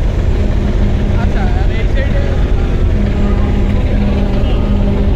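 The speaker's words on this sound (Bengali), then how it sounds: "মানামি লঞ্চের ইঞ্জিনের ট্রাস্ট।" Twin engines of a large passenger river launch at departure on an Eid return trip, a loud steady low droning thrust with constant churning rumble throughout, while people talk over it.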